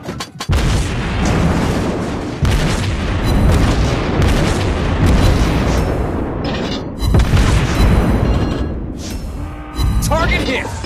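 Shells strike targets in World of Warships Blitz during a Tier 4 Japanese battleship match, a series of loud booming impacts and explosions repeating every couple of seconds under game effects.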